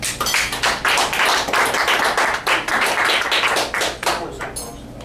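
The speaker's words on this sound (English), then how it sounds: "Let's give Andy a round of applause" Applause breaks out at a community breakfast gathering: a room of people clapping in dense, sharp bursts, loud and fairly near, the claps fading somewhat toward the end.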